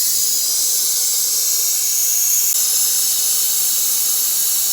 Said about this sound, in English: set up our torch, turn the gas on, ignite it, and then add some oxygen